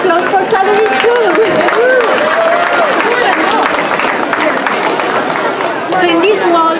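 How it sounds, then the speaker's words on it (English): Loud applause and cheering from a crowd at a public school art show held at Sotheby's, dense clapping mixed with excited chatter and children's shouts, rising and dipping briefly before swelling again. "Let's give a round of applause for Sotheby's too."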